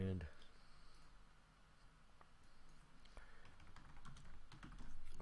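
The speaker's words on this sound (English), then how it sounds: "You're gonna hear some clicking on the keyboard." Soft, quick keyboard typing and scattered clicks at a computer during gameplay, faint and close, continuing steadily with light tapping bursts.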